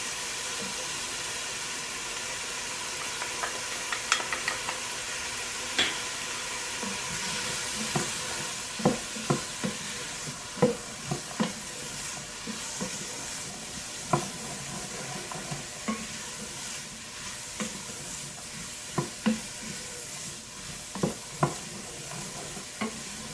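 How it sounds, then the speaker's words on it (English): A spoon stirs seasonings into a sizzling pot of lentil stew, with steady frying hiss and repeated sharp scraping clicks against the pot, close and alone without talk. "Now you're going to add all your seasonings in there."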